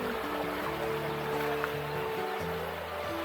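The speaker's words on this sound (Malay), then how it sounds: "Ini sungai dia." Shallow stream at a jungle campsite in Selangor, its water rushing in an even, unbroken wash with some low droning tones mixed in, heard without speech.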